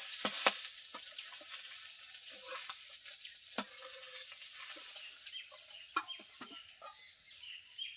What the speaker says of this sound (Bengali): মাছগুলো ভেজে নেওয়া হয়ে গেছে আর দেখো মাছ ভাসতে ভাসতে চারিদিকে একদম তেল দিয়ে কি অবস্থা হয়েছে